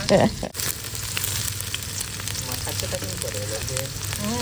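Two kinds of onion, small shallots and large onions, fry in hot oil for a fish curry and prawn thokku, giving a steady close sizzle throughout, with a brief louder crackle right as they go in.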